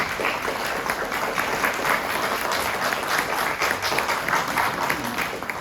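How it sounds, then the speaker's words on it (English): Steady audience applause at a community association annual meeting welcoming a mayor and councilperson, dense continuous clapping from a crowd indoors, fairly loud and sustained throughout with no pause. "Please give them a round of applause."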